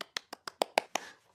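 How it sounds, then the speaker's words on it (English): Hands clapping seven times in a steady rhythm, crisp and close, with no other sound between the claps. "I'm clapping my hands."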